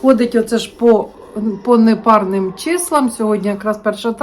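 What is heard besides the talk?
No everyday noise stands out behind the speech.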